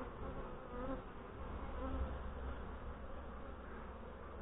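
Honey bees buzz steadily inside an open hive during a late-September beekeeping inspection, a dense, continuous droning hum from many bees close by, with no talking.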